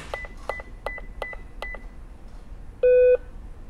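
A series of evenly spaced button presses on a Ritron GateGuard wireless gate controller, each giving a short electronic beep, then a pause and one longer, louder confirmation tone.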